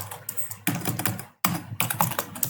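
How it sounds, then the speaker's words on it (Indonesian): Rapid typing on a computer keyboard, close and crisp, in two quick bursts of clattering keystrokes split by a brief silent pause, with no talking. "sambil latihan ngetik ini saya"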